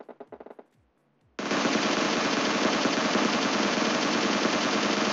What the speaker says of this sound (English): Now we are going to try another assault rifle called Scar L.